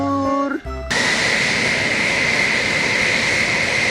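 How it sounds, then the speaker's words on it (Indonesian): A toy fighter jet gives off a steady, loud whooshing engine roar that begins abruptly after a short burst of tonal toy sounds and then holds even and close for several seconds. "di sini juga ada pesawat. Pesawat jet tempur"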